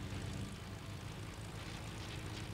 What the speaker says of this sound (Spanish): Que viene una avioneta.